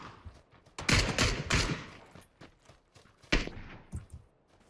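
Gunfire from the battle-royale game PUBG: several bursts of shots, loud and close, with clusters of sharp cracks near the start and another strong burst later.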